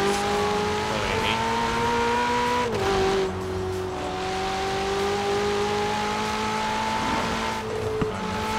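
A drift car in the racing game Forza Horizon 4 holds a steady, droning engine note with shifting pitch and occasional gear changes, plus tire squeal. The sound is continuous and moderately loud throughout.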